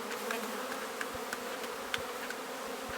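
Honey bees buzzing at an open hive in winter, the brood chamber exposed, a dense continuous hum with individual bees droning close by and occasional soft knocks.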